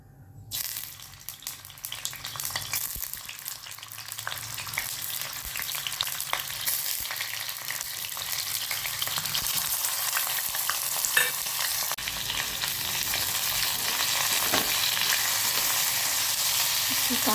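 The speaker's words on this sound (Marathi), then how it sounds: "त्यात तेल टाकूया आणि हे पनीर आपण शॅडो फ्राय करूयात" Paneer shallow frying in hot oil in a pan, a steady bright sizzle that swells and holds loud and close for the whole stretch, with faint stirring scrapes and no talking.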